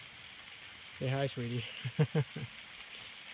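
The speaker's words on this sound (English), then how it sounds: "It's freaking raining outside like a freaking crazy." Steady rain falls outdoors beside a small footbridge on the Camino de Santiago, a soft continuous hiss throughout while a person speaks briefly in the middle.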